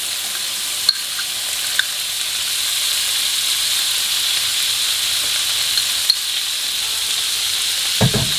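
Two tablespoons of butter melt in a hot pan as the base for a garlic white sauce, giving a steady, even sizzle and hiss, with a few faint clicks and a soft clatter near the end.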